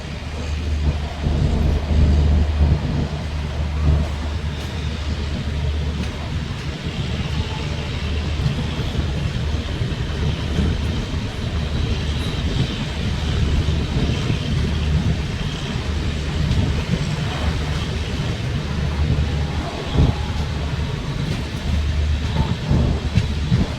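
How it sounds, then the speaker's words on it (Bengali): An express train pulls out of Churu station in Rajasthan, heard from inside a rear coach of the Sealdah–Bikaner Duronto: a loud, steady low rumble of running gear with constant rattling. "ফাইনালি চুরু থেকেও ট্রেন ছেড়ে দিল।"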